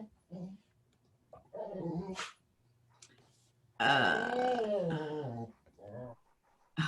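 A dog at home whines, grunts and gives a long groaning, yowling vocal outburst in several bursts, close and fairly loud, with a brief human voice in between.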